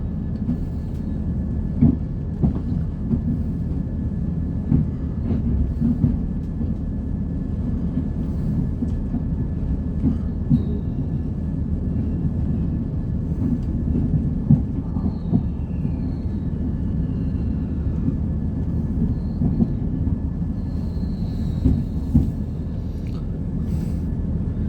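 Interior of a moving train on a ride around Chesterfield, with a constant loud low rumble of wheels and rails, occasional knocks and clicks, and no talking.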